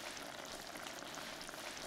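Fish braising in a covered pot of pepper sauce over low heat, a soft continuous bubbling and sizzle, faint and steady with no talk.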